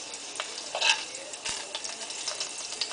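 Chopped garlic frying in about a tablespoon of grapeseed oil, giving a soft, steady sizzle with faint crackles and no talking.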